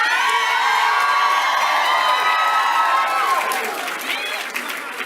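An election night rally crowd in Seattle cheers, claps and whoops loudly and without a break, with shouts and high voices above the roar, which eases slightly toward the end.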